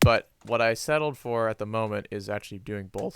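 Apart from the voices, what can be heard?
No distinct noise like a dog, phone or traffic.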